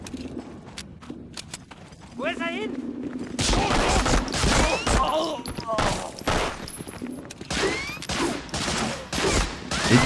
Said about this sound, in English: that's an MP40